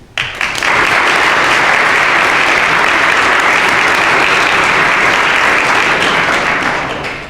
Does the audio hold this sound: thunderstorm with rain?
no